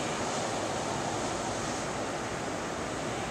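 Ocean surf on a beach rushes in a steady, broad wash of noise, with faint wind mixed in, constant and fairly loud throughout with no voices.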